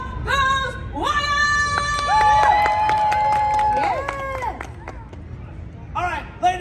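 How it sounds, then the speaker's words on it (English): A live audience at the 2022 New York Auto Show cheers and shouts loudly, with whoops and voices rising and falling over crowd babble for several seconds before settling, then a brief burst near the end. "So when you hear and the crowd goes wild, I want you to make some noise"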